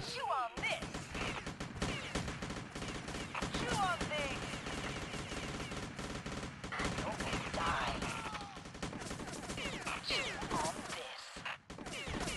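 Enemies open fire in the Abomination: The Nemesis Project video game, sustained gunfire and rapid bursts that crackle for most of the stretch under game effects, loud and close, with someone talking over parts of it.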